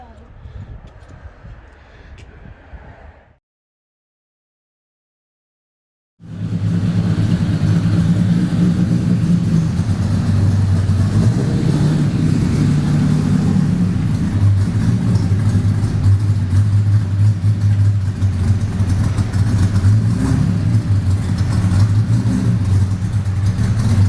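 A carbureted E85 Ecotec V6 in a standard saloon race car runs loud and sustained on a dyno, a deep steady engine drone with shifting revs, preceded by brief talk and a moment of silence.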